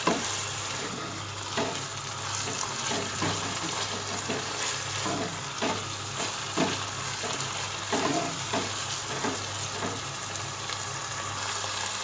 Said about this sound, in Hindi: अब हम इसकी अच्छी तरह भुनाई करेंगे।